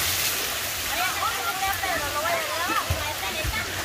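River water pours and splashes steadily onto a barrel, with a faint voice murmuring underneath the constant watery noise.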